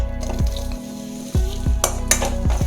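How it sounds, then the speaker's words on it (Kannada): Onion frying in oil in a pan over medium heat for masala dosa chutney, a steady close sizzle with periodic stirring scrapes and clinks. "ಈರುಳ್ಳಿ ಒಂದು 2 ನಿಮಿಷ ಮೀಡಿಯಮ್ ಉರಿಬಿಟ್ಟು ಫ್ರೈ ಮಾಡ್ಕೊಂಡಿದ್ದೀನಿ."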